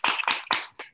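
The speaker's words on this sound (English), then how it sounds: "Let's hear a round of applause for our friends in Chestermere." Audience applause in a short burst, several loud bright bursts of clapping that quickly thin out and stop within a second.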